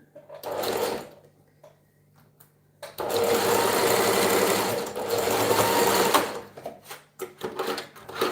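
A sewing machine stitches fabric in loud, close bursts: one short run, a pause, then two long sustained runs and a few quick stops and starts.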